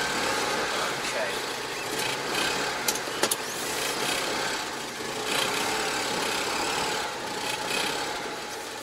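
A Citroen 2CV engine idles on half choke, a steady low rumble heard from nearby with a couple of faint clicks and a short sharp knock partway through.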